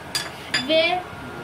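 Spoon scraping and clinking against a pot while chicken korma ingredients are stirred in oil, two sharp metallic knocks followed by a brief ringing scrape, close and fairly clear.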